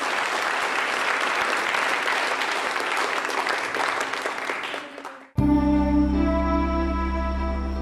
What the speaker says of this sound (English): Every group received warm applause from the audience after their presentation.